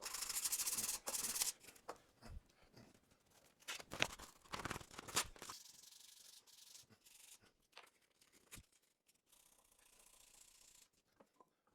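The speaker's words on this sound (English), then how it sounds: "I'm going to get this sanded up to 150" Hand sanding a wooden Greene and Greene style furniture leg with abrasive paper, brisk rubbing strokes loud and dense at first, then turning into sparser, lighter scuffs and pauses.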